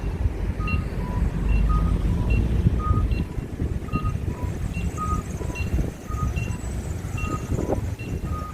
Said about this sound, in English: Crosswalk beeping is loud, is it not?